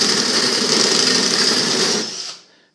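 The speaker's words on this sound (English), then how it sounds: "I've attached the grinder stone to my cordless drill" A grinding stone spun by a cordless drill scours rusty metal on an old heater cover, a loud steady high-pitched whir that runs unbroken for about two seconds before winding down to silence.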